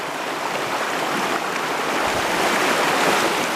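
Fast river water flows around a wading angler's legs in a steady, loud, hissing rush that swells slightly toward the end, with no talking.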